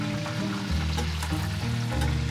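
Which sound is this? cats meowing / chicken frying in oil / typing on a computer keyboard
chicken frying in oil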